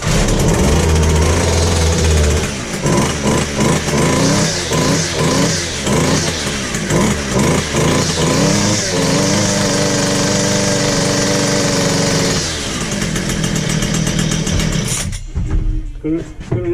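McCulloch MT 320 chainsaw engine on full choke, loud and close, roaring steadily with a rapid pulsing rattle before cutting out abruptly near the end.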